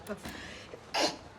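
A short, sharp burst of breath around the middle, like a quick sneeze, with a few soft vocal noises and shuffling before it.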